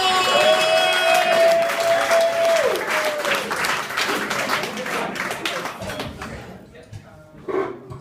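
Comedy club audience applauding and cheering a comedian's introduction, loud dense clapping that gradually thins out and fades, with a voice briefly heard near the end.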